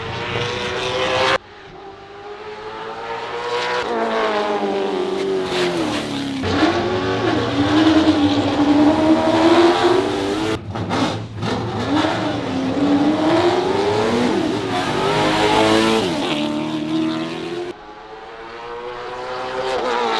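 Race car accelerating hard on a qualifying lap at Florence, a loud in-car engine roar rising and falling through repeated rev sweeps and gear changes, with a short lift mid-run.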